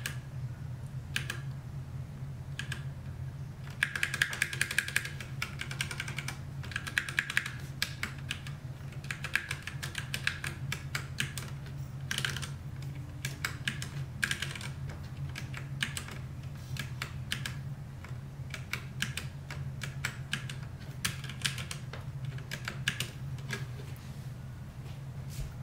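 Keys on a Ducky One 2 Mini mechanical keyboard are pressed in scattered bursts of crisp clicks over a low steady hum, fairly quiet and close, with no speech.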